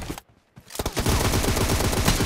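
Gunfire in PUBG during a team deathmatch, with a couple of sharp shots, a brief hush, then a sustained close rapid automatic burst that rattles on steadily to the end.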